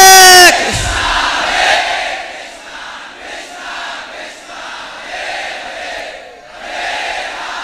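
A temple crowd at ISKCON Juhu chants loudly in unison, the massed voices swelling and dipping in waves after a brief sharp opening tone.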